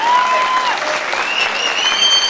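An audience at a municipal cultural event in Defne applauds steadily, a dense sustained clapping with a few whistles or vocal tones rising over it, fairly loud and close.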